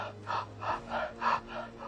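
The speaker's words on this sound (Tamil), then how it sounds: "வாயை திறந்துட்டு மூச்சு விடுங்க." Mouth-open breathing exercise: five rhythmic, forceful breaths through an open mouth, evenly spaced, close and fairly quiet, with no talking.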